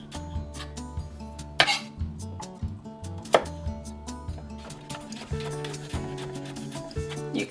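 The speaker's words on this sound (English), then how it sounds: "You could chop these radishes any number of ways." A knife chops radishes on a cutting board in a home kitchen, giving sharp, fairly quiet, irregular taps with a few louder strikes and no speech.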